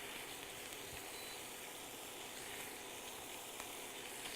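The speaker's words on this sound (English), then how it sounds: "I'm going to be rendering this bacon fat is what it's called" Maple-rubbed bacon sizzles steadily in a pan as its fat renders out, a dense, even crackling hiss at close range, faint overall, with tiny pops scattered throughout and no talking.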